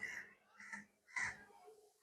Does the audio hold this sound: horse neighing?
no